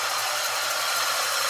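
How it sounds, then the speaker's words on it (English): A worn AC compressor pulley bearing on a 1996 Ford Mustang grinds with a steady whirring roar and a fast low rhythmic pulsing under a running engine. "the bearings inside that are making noise"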